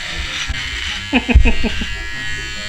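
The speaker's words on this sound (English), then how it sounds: "What is Naji doing? Shaving." An electric shaver buzzes steadily while shaving a dad's beard at home, a close, humming drone with brief louder bursts, as a voice talks over it.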